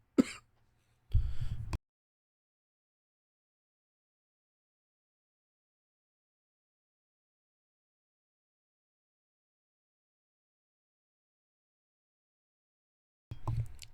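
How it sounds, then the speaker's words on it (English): A single sharp throat clearing or cough from one person, followed by a rougher clearing burst a moment later, then long silence before another faint cough near the end. "I had a coughing episode there"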